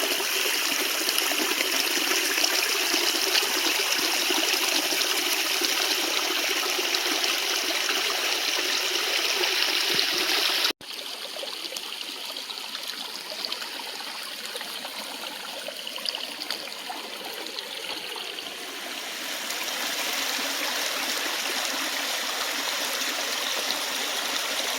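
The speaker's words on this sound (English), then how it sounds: "that's just a lot of the water coming to the property and through the property" Floodwater streaming across a rural property near national forest, a steady loud gush and trickle that drops to a softer flow partway through, then swells a little again.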